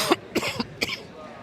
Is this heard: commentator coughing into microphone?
yes